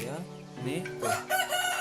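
A rooster crows nearby, a drawn-out strained call with a rising, warbling finish.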